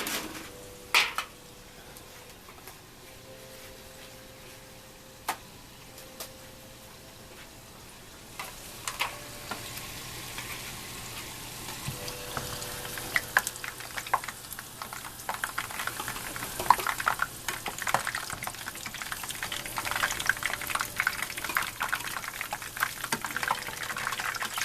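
French fries bubble and sizzle in hot oil, a low frying hiss that grows denser and louder over time, broken by occasional clinks and stirring knocks.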